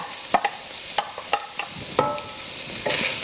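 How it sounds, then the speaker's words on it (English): Two medium chopped onions hit a skillet of rendered bacon fat for black bean soup, a steady sizzle broken by several sharp scrapes and stirring knocks of a utensil against the pan. "So I'm going to put the 2 medium chopped onions in the skillet"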